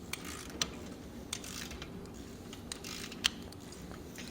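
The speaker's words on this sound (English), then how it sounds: "we're going to eliminate that by torquing down the center bolt" A ratchet torque wrench tightens the center bolt of a VelociRAX roof rack toward 45 foot-pounds, producing faint, sparse ratcheting clicks at irregular intervals over a quiet background hum.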